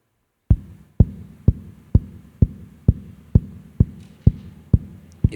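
A voice or hand imitates a mother's heartbeat as a baby hears it: about eleven steady, loud, low thumps at an even pace, alone with no talking.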